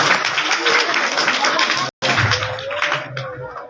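Audience clapping at a school prize-giving where students and guests receive gifts, a dense sustained patter filling the hall with a brief break, murmuring voices mixed in.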